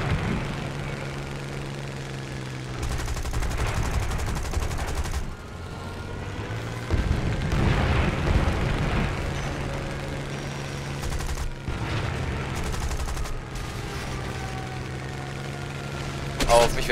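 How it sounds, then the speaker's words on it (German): Bursts of gunfire in the tank combat game War Thunder crackle among a steady idling engine rumble. The shots come in repeated volleys at moderate loudness, and voices talk over them. "Auf mich wird geschossen, sehe ich gerade."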